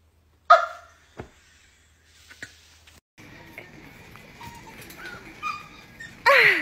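A dog gives a sharp, close bark, followed by a few fainter yips and whines, then a stretch of low scuffling background before another loud bark at the end.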